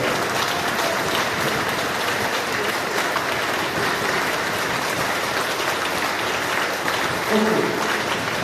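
A seminar audience in Gonda claps continuously, a dense, loud wash of applause that holds evenly throughout, with no distinct voices on top.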